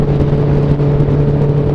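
A motorcycle with a straight-through trumpet exhaust, the same type fitted to an R1, rumbles and revs loudly nearby in a brief, steady burst with no voices.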